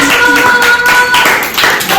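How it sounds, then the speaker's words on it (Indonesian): A classroom group claps for the first team after its presentation, a loud, steady patter of hands lasting about two seconds, with a faint tonal hum running beneath it. "Tepuk tangan untuk kelompok 1"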